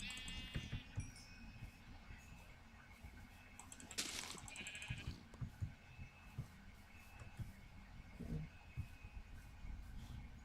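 Sheep bleating in the video game Minecraft, a few short bleats standing out over busy game sounds and background noise.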